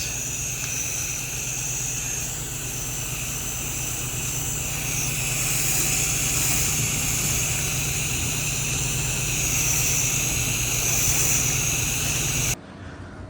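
Steady, loud hiss of a pressure washer blasting a heavy rinse across surfaces in a hamburger factory, continuous with engine-like hum beneath, cutting out near the end.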